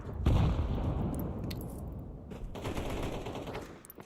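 Rapid automatic gunfire in an online shooter game, with dense bursts of shots sounding loud and close, broken by a short pause before a second volley.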